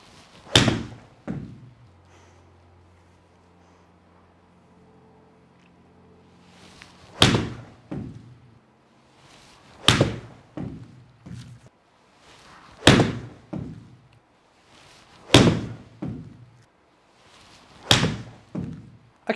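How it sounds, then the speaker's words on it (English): A pitching wedge strikes Titleist AVX golf balls in a hitting bay, with about eight sharp, crisp impacts spaced several seconds apart, each a clean click-thump standing alone against near silence. "just done hitting the pitching wedges with the Titleist AVX compared to that Pro V1"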